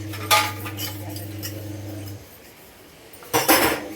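Metal pots and utensils clink and scrape during hand dishwashing in a home kitchen, a few clatters near the start and a louder burst at the end, with a low hum fading out midway.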